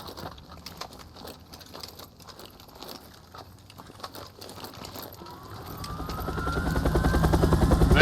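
Helicopter in a combat video game, its rotor chop building from a faint background whir into a loud, close, rising roar over the last few seconds, with no talk.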